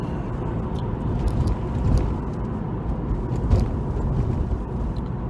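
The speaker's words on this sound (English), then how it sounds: "those exhausts still sound lovely." A Porsche 911's exhaust rumbles steadily while driving on the road, a low continuous drone with mild swells in loudness and no talk over it.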